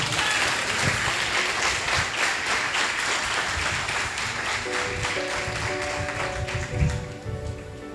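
A church congregation applauds during a sermon, dense continuous clapping filling the room at a steady level, with a faint sustained musical tone entering partway through beneath the crowd.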